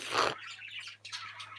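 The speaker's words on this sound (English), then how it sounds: "do you hear my birds? I can't even talk because they're so loud." Pet birds chirp loudly indoors: a burst of sharp high tweets and twittering calls up close, with a steady low hum underneath.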